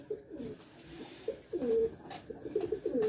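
Rajshahi Giribaj pigeons coo nearby in a series of soft, throaty rolling phrases, pausing briefly between calls and swelling louder in the second half.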